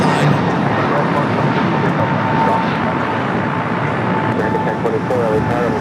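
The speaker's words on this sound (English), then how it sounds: "Air Tahiti Nui, the Dreamliner, running slightly a little bit late here today." An Air Tahiti Nui Boeing 787 Dreamliner arrives at LAX, a loud, continuous engine roar mixed with a broad airport rumble. A faint voice talks under it.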